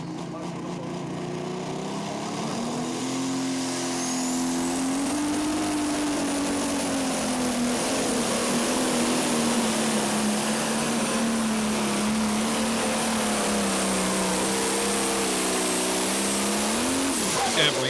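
A Pro Stock pulling tractor roars loudly and steadily through a pull at a Tomah, Wisconsin event, its deep engine note rising and wavering over the full run with a final surge near the end; an announcer talks over it.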